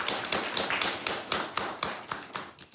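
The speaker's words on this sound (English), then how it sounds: "If you are, please give us a round of applause as we begin the conversation." A studio audience claps briefly at a televised discussion, sparse crisp hand claps with a loose, uneven rhythm, fairly quiet and with no voices over them.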